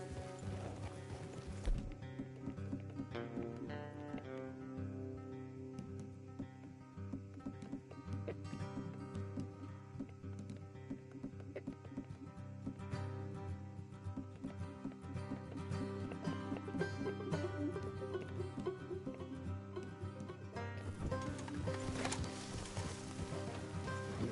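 Steady clip-clop of horse hooves trotting continuously in Red Dead Redemption 2 under a bed of music, with faint snorts; the rhythm stays even throughout.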